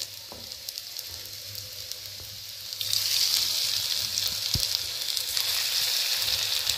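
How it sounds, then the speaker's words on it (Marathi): Potato triangles slipping into hot oil for deep frying; a quiet bubbling at first, then a sudden louder, steady hiss and fizz as they hit the oil, with a faint clink. "आता हे ट्रायंगल्स आपण तेलात सोडूया"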